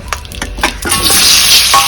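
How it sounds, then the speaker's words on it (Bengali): Potatoes go into hot oil in a pan already used to fry duck eggs, giving a few sharp clinks followed by a loud, steady sizzle. "এই তেলের মধ্যেই আমি আলুটা ভেজে নেব।"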